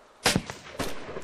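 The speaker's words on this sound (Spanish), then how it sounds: "Hostia, me ha silbado la bala." Gunfire in the video game DayZ, in the town of Berezino: one sharp shot followed by a second crack and a brief whiz about half a second later, both loud and close, with no talk over them.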